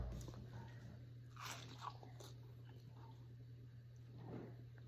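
Close, crisp bites and chewing into a crunchy grilled cheese sandwich flavored with rosemary, with a few distinct crackling crunches over a low steady hum and no talk.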